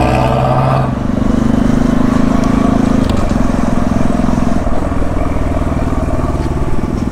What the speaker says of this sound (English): the noisy minivan overtaking us